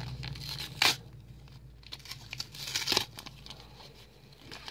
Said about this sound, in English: we're gonna rip these open